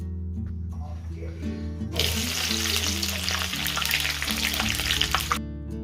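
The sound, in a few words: crushed garlic cloves with skin frying in oil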